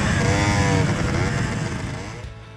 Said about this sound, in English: Event number 2 was the drag racing.